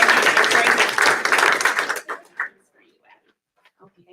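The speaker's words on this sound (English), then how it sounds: "let's give Addie a round of applause" An audience at a school board meeting claps for a student for about two seconds, a dense burst of applause that quickly thins to a few scattered claps and room noise.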